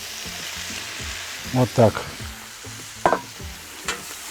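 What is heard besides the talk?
stirring meat and potatoes frying in a kazan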